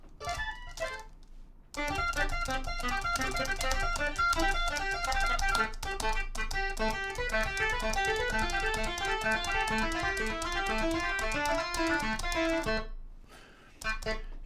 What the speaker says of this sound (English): Here's a clavinet.